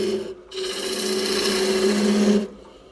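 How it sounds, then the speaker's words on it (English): A skew chisel cutting maple on a wood lathe, a close rasping scrape with a spinning hum that swells for about two seconds between quieter moments of the lathe turning. "Nice skew cut."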